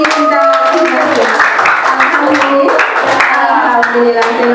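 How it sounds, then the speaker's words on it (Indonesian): A class claps for itself at the end of a school lesson, a loud, close burst of scattered hand clapping mixed with voices and cheering. "Tepuk tangan untuk diri kita masing-masing"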